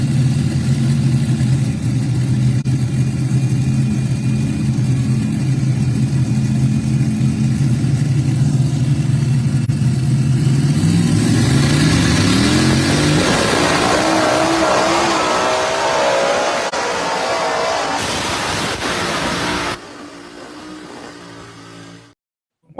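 Pulling tractor engine roaring loud and close through a tractor pull run, a steady deep drone that climbs in pitch midway as it strains down the track, then drops away abruptly near the end.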